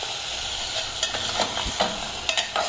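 A fish head drops into hot oil with a garlic tempering and sizzles steadily, with a few sharp spatters and scraping stirs over the hiss and no voices.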